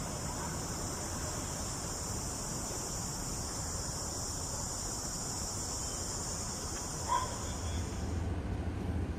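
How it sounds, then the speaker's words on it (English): Cicadas buzz in a steady, high-pitched drone that holds unbroken and fairly loud over a faint background hiss, then cuts off near the end. "The cicadas."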